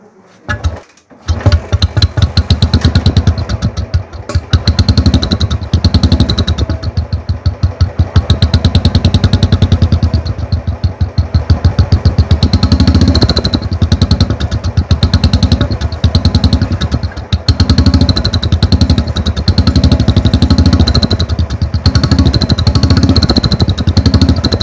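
Royal Enfield motorcycle with a modified whistle silencer, started up and then idling loudly and close for a long stretch, a rapid thumping exhaust pulse with a steady high whistle over it.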